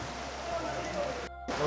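Steady rain falls at the Triyugi Narayan temple on a Char Dham pilgrimage route, a dense continuous hiss of drops on surfaces that cuts out briefly near the end before resuming.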